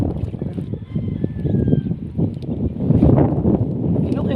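Strong wind at the seashore buffets the microphone in a continuous low roar that swells and eases, with a voice briefly audible under the gusts.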